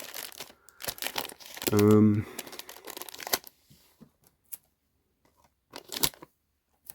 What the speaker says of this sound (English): They had it shrink wrapped. So I took it out of the shrink wrap.